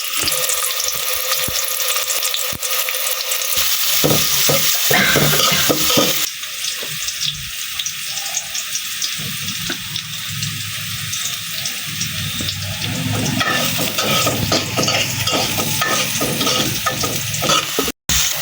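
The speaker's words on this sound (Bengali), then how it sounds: "তেলটা গরম হয়ে গেছে, পেঁয়াজ কুচিগুলা দিয়ে দিলাম।" Chopped onions hit hot oil in a pot for a hilsa fish curry, giving a loud, steady sizzle and crackle with stirring scrapes that lasts throughout, briefly cut off near the end; no talk.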